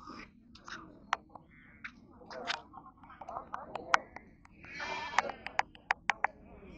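Goats at a livestock market bleat repeatedly, with several short, sharp calls rising over low murmuring voices and scattered clicks, growing more frequent toward the end.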